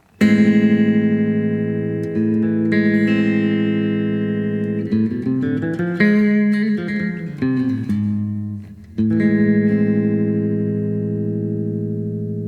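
Sustained distorted electric guitar chords from the A harmonic minor scale ring out with a brief strummed change in the middle, loud and steady with some shimmer, no talking.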